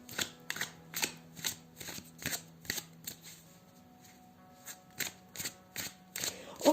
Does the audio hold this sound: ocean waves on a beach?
no